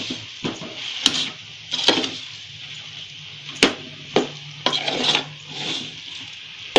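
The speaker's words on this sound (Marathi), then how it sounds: "गॅस मध्यम ठेवून आता एक 6 ते 7 मिनिट असं हलवून घेते चमच्यानी" Puran filling for puran poli is stirred with a spoon in a pan over a medium flame, with scraping strokes and sharp knocks against the pan at an irregular rhythm over a soft steady hiss.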